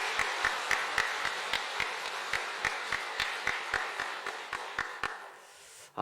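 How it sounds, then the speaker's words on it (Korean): A church congregation applauds with a steady wash of many clapping hands, broken by sharp regular taps, before fading out near the end. "우리 다 같이 박수 한번 드리도록 하겠습니다"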